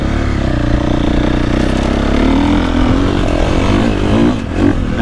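KTM 450SXF Factory Edition motocross bike ridden on dry hard-pack dirt, its engine a steady, loud, close droning roar with rising and falling revs throughout, no talking over it.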